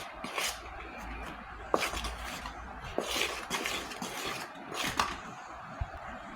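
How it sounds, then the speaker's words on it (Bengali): A spoon stirs wheat flour batter in a bowl while making palm-fruit pitha, giving soft scraping with a few light clinks against the bowl at irregular intervals, fairly quiet and close. "একটা চামচের সাহায্যে এভাবে আমি মিশিয়ে নেব।"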